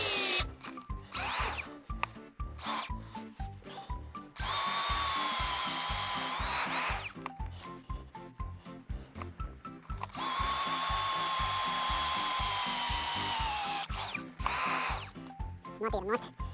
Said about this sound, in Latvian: ar šādiem lieliem urbiem urbt var tikai pieaugušais. To atceramies. Varam sākt urbt.